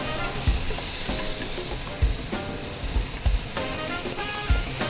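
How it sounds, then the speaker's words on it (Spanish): A stew of pork cheeks sizzles loudly and steadily in a pot over the fire while a spoon stirs it, sending occasional dull knocks and scrapes through the continuous frying hiss. "Removemos para que no se pegue al fuego de la marmita, la cazuela"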